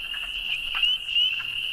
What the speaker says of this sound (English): I hear a wood frog, though, beginning in there.